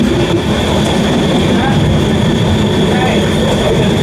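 Amrit Bharat Express on an Indian railway line near the Raipur outer, a steady loud rumble of rolling coaches with faint rail squeal, continuous throughout.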